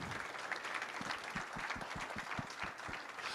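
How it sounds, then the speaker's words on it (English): A crowd at an auctioneers' annual business meeting claps for a colleague, dense sustained applause filling the room, with a few sharper individual claps standing out near the front. "Give a round of applause."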